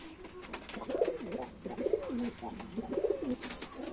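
Chini Kaldum pigeons coo close by in soft, repeated rolling phrases, about four bursts over a few seconds, with no talking.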